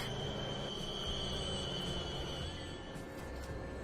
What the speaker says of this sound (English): Oh, and there's a steel train come back.